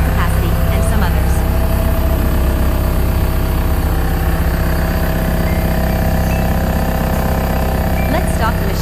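A DY1150 telescopic forklift wheel loader's diesel engine runs steadily at close range, a loud continuous low rumble and vibration with no breaks throughout.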